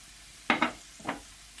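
Tomato goes into a hot pan for tchoukchouka, giving a few quick, faint sizzling and stirring bursts against a quiet background.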